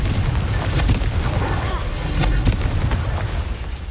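Confringo fire spells blast off in Hogwarts Legacy, loud booming bursts landing one after another amid dense, continuous game noise.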